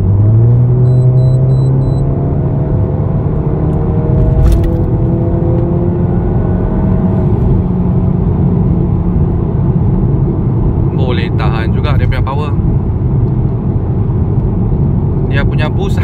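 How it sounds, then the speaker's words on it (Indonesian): A remapped Volkswagen Scirocco 1.4 TSI in sport mode with the exhaust valve open holds a loud, steady engine drone from inside the car, with its pitch shifting as it revs and short clicks near the end. "Sport mode, exhaust valve buka."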